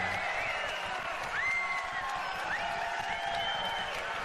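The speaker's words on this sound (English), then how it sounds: "As you can hear, we've got a great crowd here in London." A large audience at the Hammersmith Apollo in London cheering and whooping during the EA E3 2016 press conference, a continuous roar of crowd noise with rising shouts, fairly distant.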